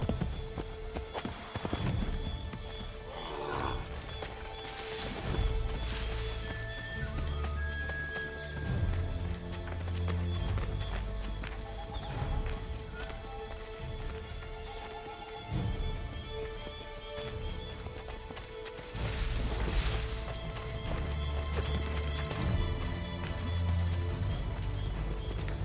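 Horses' hooves clip-clop steadily in Assassin's Creed III Remastered, with occasional neighs and whinnies over a soft rain-like backdrop and swelling musical tones, the riding rhythm continuing close and clear.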